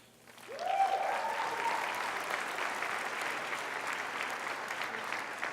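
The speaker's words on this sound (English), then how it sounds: "We're going to ask everyone to hold the applause till the end." Applause at a 2019 Hispanic graduation convocation for a community college swells suddenly and holds as steady, broad clapping from a large audience heard at a moderate distance.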